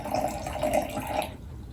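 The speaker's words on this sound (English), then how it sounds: "Okay, so we're filling these up about a quarter of the way with water." Water poured into mason jars, filling each about a quarter of the way, a close gurgling splash with a few bubbling pulses that stops short.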